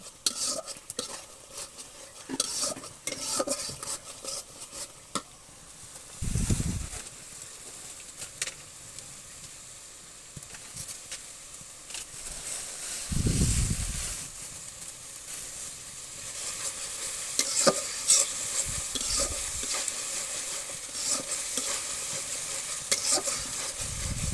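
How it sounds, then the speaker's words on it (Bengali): Chicken and masala fry in a pot on a clay stove while being stirred, with continuous sizzling, scraping utensil strokes and occasional dull thumps over a long stretch, without talk. "মাংস মশলাটাকে ভালো মতো কষে"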